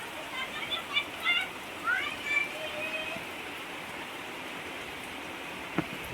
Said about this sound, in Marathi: आज पाऊस पडतो आहे